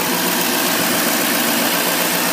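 A 2015 Chevrolet Silverado 2500HD Z71 LTZ with a 6.6-liter turbo diesel idles with the hood open, giving a steady, loud, rough diesel rumble and clatter that runs unbroken from start to finish with no talking.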